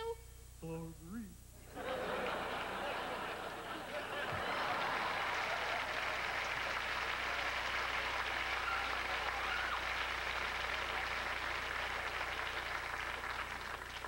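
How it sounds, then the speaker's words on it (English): A studio audience breaks into sustained applause, thick and even clapping that swells after a short spoken moment at the start and holds steadily without letting up. "It's really a great audience that applauds cardboard."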